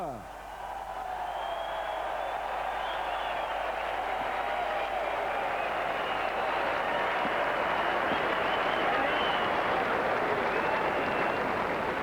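A large boxing arena crowd in Hamburg's Color Line Arena applauds and cheers at a Universum Box Promotion world light-heavyweight title night, a steady roaring wall of clapping and voices that swells and holds for the whole stretch.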